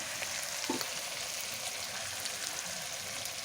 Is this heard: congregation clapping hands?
no